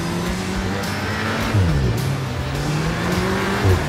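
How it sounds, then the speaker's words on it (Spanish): A 2020 Cupra Ateca drives on snow and ice with its tyres at the limit, the engine droning steadily up close with shifting revs and brief tyre scrubs, with no voices. "Aquí hay mucho hielo, la verdad es que los neumáticos están trabajando al límite."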